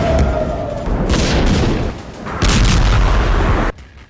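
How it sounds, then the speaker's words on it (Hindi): Explosions from an Iranian missile attack, heavy booming blasts and rumbling bursts that rise and fall over a few seconds, loud and dense, cutting off abruptly at the end. "ईरान के इस नए मिसाइल हमले की ये तस्वीरें देख लीजिए"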